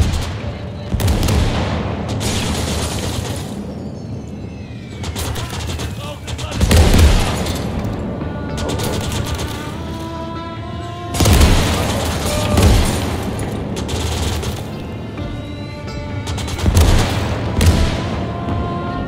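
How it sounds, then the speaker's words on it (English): Mortar fire in the WWII strategy game Call to Arms - Gates of Hell thumps and booms repeatedly amid crackling gunfire, loud bursts recurring every few seconds across a busy battlefield. "now he has a mortar."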